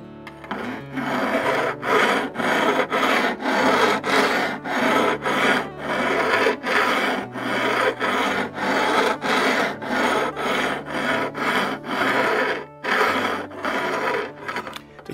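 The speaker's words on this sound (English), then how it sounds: "sometimes also we need fret reshaping and fret sanding" Rapid, regular rasping strokes of a file scraping guitar frets, about twenty back-and-forth passes with short pauses, close and fairly loud with no talking.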